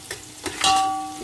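Onions for chicken biryani fry in a pan, a close steady sizzle with a couple of brief stirring scrapes.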